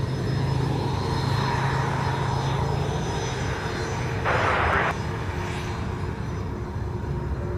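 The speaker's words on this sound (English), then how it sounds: "Got the reverse thrusters on as well." An airliner roars with reverse thrusters on at Sydney Airport at night, a steady loud engine rumble heard from a spotting position, with a short hissing surge partway through.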